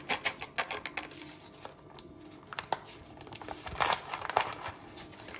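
A plastic packet crinkles and rustles in short irregular bursts, close and fairly quiet, with small crackling handling noises and no talking.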